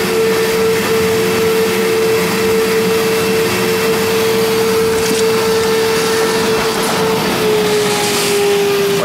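A loud, steady wet-dry vacuum roars as it sucks out a condensate drain clogged with gelatinous matter, keeping a constant whine with faint gurgling and no talking over it.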